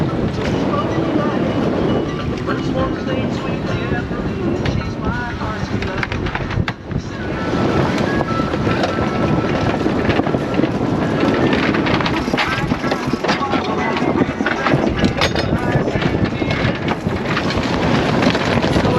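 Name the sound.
wind blowing on a single-handed sailboat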